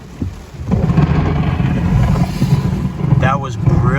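Thunder from an intense North Florida thunderstorm rumbles low and long across the clip, mixed with wind buffeting, while a voice briefly exclaims near the end.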